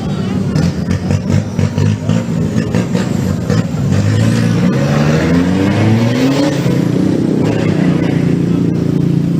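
Pickup truck with a broken fuel injector, its engine revved hard and held high, a loud continuous rising and falling roar close by with voices faintly beneath.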